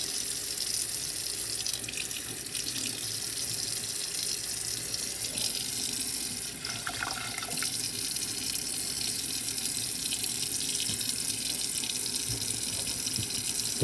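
Cold tap water streams steadily from a faucet as a rusty metal part is rinsed under it, a constant close splashing rush with small clinks.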